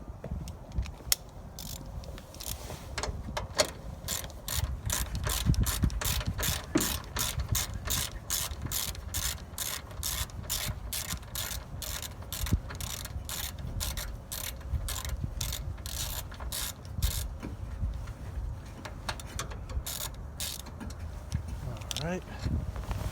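A ratchet turns a 10 millimeter bolt on a Jeep Wrangler JK hood lift strut, giving a long run of rapid, evenly spaced clicks that speed up midway, under quiet talk and light handling noise.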